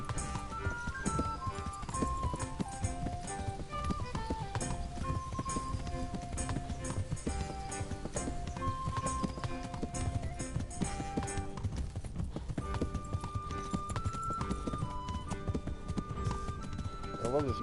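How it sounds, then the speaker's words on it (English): A horse's hooves clip-clop in the medieval game Kingdom Come: Deliverance, a steady rhythmic trot beneath loud background music, with someone talking over it. "I love this new horse I have"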